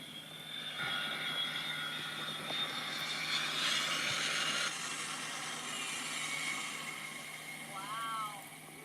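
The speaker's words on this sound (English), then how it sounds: "There's a plane taking off out there." Jet airliner engines roar steadily at an airport, heard from inside a cabin during a flight from BWI to Las Vegas as another plane takes off outside, with a broad continuous rumble and hiss throughout and a brief voice near the end.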